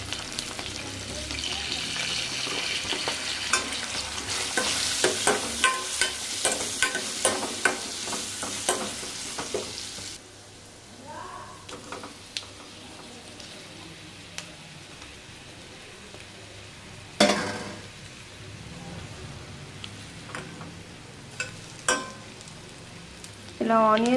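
Onions fry in a pan for a village-style taro root curry, a bright sizzle with repeated scraping stirs that dies down midway, leaving quieter clinks and occasional louder knocks.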